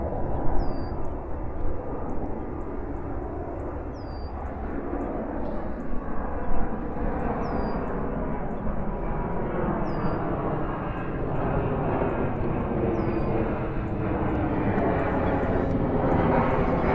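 Delta Boeing 767-300 heavy jet taking off at JFK airport, a broad sustained engine roar that stays loud and steady throughout, with a faint repeating high chirp on top and no clear talk.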